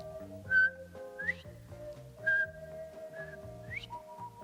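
A person whistles an imitation of a male bobwhite quail's call: bright, rising whistled phrases repeated over soft background music.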